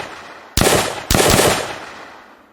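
Two loud, sharp rifle shots from an Unreal Engine zombie shooter game, spaced about half a second apart, each with a bright crack and a decaying echo tail, with no speech.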